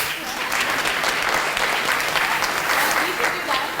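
A crowd applauds at the grand opening of an arts hub in West Toronto, with dense, sustained clapping that holds steady throughout.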